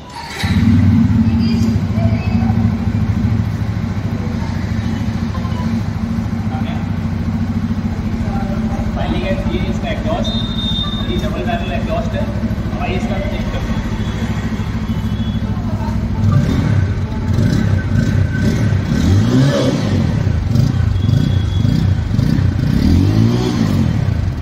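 A 2023 Bajaj Pulsar N250 Dual Channel ABS motorcycle engine idles steadily up close, then gets revved repeatedly in rising and falling bursts over the second half.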